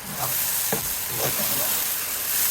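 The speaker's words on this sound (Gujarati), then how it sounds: "આ બધો મસાલો આપણે કરી નાખશું મિક્સ" Masala with grated tomatoes, sugar and lemon is stirred and fried in oil in a pan for Kathiyawadi khichdi, giving a steady close sizzle with a few soft scraping stirs on top.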